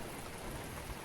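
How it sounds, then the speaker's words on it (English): Steady rain falls during a thunderstorm as a dense, even hiss of drops on surfaces, constant and fairly close, with no thunder or voices breaking through. "It's raining."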